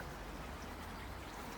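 Rain falls outdoors at a koi pond build site in a constant, faint patter, with no voices.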